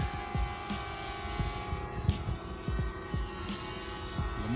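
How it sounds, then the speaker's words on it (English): A small camera drone flying nearby gives a steady high whine with rotor buzz and a faint rhythmic flutter, continuous and fairly close with no talk. "I got my boy Lamar with the drone shot"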